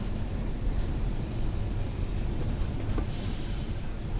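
Train Sim World 5 rendition of a BR Class 31 diesel locomotive on the Tees Valley Line running steadily, a continuous low rumble of engine and wheels with a brief hiss near the end and no talk.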